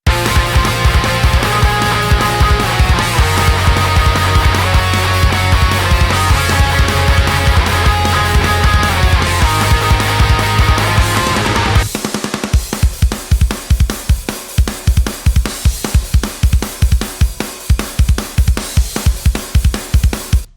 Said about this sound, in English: Want a pop-punk drum sound that sounds like this?